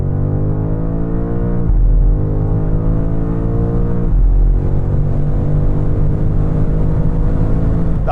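BMW M5 launching under launch control, a loud close engine roar climbing in pitch through rapid gear changes, with sharp shift breaks as it accelerates hard.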